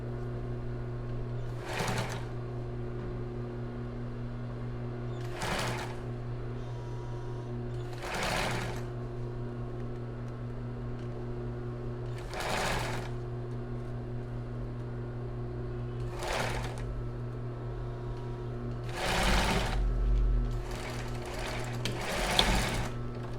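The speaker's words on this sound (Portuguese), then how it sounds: "Então, agora a gente vai costurar aqui, né, o taquara." An electric sewing machine stitching a cross-front base bra runs in short bursts of rapid stitching, separated by pauses, over a steady motor hum.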